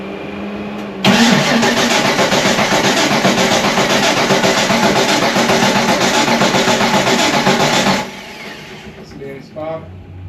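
A car engine cranks steadily for about seven seconds without catching, a loud continuous whirring churn that stops abruptly, followed by quiet talk.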